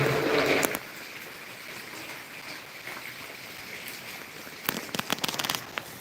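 Heavy rain falls as a steady, dense hiss, with a louder burst of spattering at the start and sharp crackling drops near the end.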